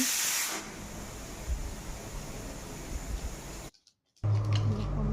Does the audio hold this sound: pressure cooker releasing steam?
yes